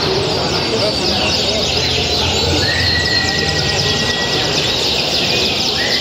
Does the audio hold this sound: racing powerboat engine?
no